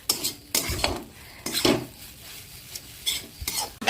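Spicy semolina (suji) stirred in a pan, with bursts of scraping and clattering from the spoon against the metal over a light sizzle, close and uneven in rhythm.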